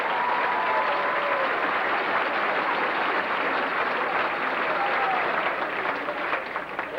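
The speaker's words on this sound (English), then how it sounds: "would you please stand up and give them a round of applause?" A crowd at a 1990 high school football banquet applauds, the clapping dense and continuous at an even level from start to finish, with no talk over it.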